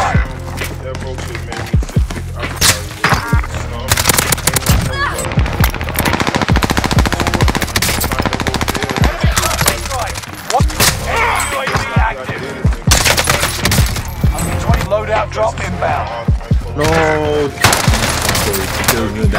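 Constant automatic gunfire rattles through a Warzone match, with loud rapid bursts, repeated shots and booms over about twenty seconds, and a voice speaking over the shooting.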